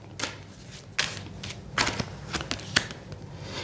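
Tarot cards are shuffled and drawn from the deck: soft papery riffles with several sharp snaps and flicks, close and fairly quiet, with no voice.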